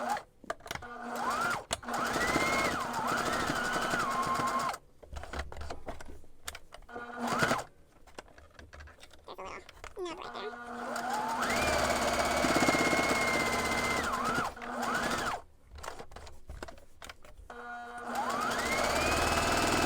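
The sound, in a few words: sewing machine top stitching around fabric edges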